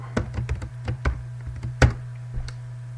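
Keys clack on a computer keyboard as a command is typed, a close run of uneven taps with one harder keystroke near the middle, over a steady low hum.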